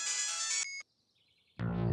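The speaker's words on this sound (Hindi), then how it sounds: "जैसे भी तुलसी का फोन आता है भाग जाता है" A phone ringtone chimes loudly with a bright electronic tone, stops abruptly, and after a short silence a low rumbling sound takes over.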